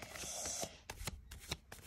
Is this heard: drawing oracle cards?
yes